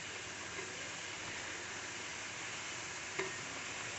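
Beef with coconut pieces fries in a pan, a steady, even hiss of sizzling fat throughout, with one small clink partway through.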